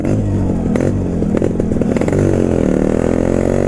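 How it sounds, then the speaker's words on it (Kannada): An original five-speed motorcycle, kick-started with one kick, runs at a steady, loud, close idle with a continuous rough, throbbing drone and occasional mechanical clatter. "ಗಾಡಿ ಒಂದೇ ಕಿಕ್ಕಿಗೆ ಸ್ಟಾರ್ಟ್ ಆಗೋಯ್ತು"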